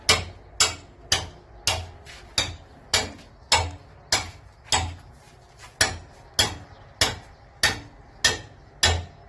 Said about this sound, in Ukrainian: Беремо так під кутом і забиваємо.